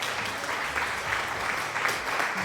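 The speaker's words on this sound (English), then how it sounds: "I want to give you guys an applause." A canned applause sound effect from a streamer, steady crowd clapping at moderate level with no voices over it.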